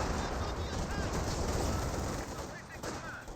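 Sustained gunfire in the Company of Heroes 2 strategy game as engineers inside a garrison come under fire: a dense, continuous rattle of machine-gun and rifle shots with distant booms, loud and unbroken, with a commentator's voice faintly under the din.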